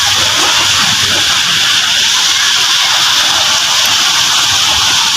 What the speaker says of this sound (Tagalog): May alon po ulit.